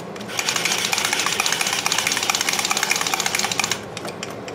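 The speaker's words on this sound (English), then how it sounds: "You hear it grinding right now, and then the more you grind, you hear it get quieter now." An 11 HP Briggs engine valve being hand-lapped with lapping compound, a rapid rhythmic gritty grinding with regular pulses, loud and close, easing off near the end.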